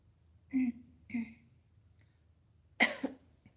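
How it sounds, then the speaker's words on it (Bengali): A woman with a cold coughs in three short bursts, two close together and one louder hack a moment later, in a quiet room. "দেখছো একটু একটু করে কাশি হচ্ছে"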